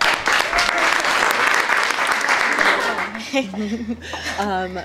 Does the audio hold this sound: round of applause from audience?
yes